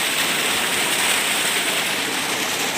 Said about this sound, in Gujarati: આપણે ઘઉંમાં પાણી ચાલુ કરી દીધું છે